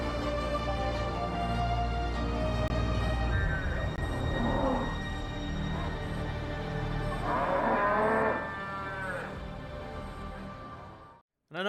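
Cows on a dairy farm with newborn calves moo repeatedly, with several long, loud bellows overlapping close by in a barn, a steady murmur of livestock underneath, and an abrupt cut near the end.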